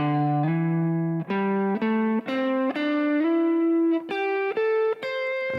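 Electric guitar with a distorted, effected tone plays a melodic run of sustained notes climbing a pentatonic scale, each note ringing clearly with no talking.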